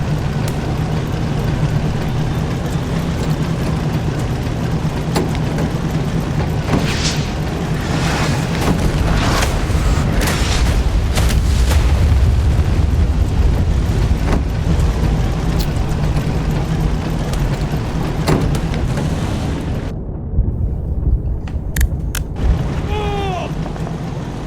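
Tank cannon fire and explosions from the video game Tank Squad rumble as a dense, continuous wash of booms and bursts, with a brief quieter gap near the end.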